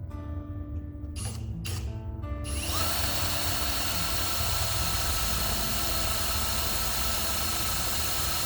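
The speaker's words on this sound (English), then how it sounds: "Let's go inside, drill the holes." A power drill bores holes inside a bus during a window delete job, starting after a few short bursts and then running as a loud, continuous whine over a low rumble.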